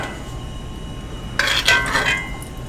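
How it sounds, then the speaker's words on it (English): A metal spoon scoops butter in a kitchen while making cast iron skillet cornbread, giving a quiet room tone and then a short, close scrape and clink lasting under a second. "I'm gonna spoon out some of this butter."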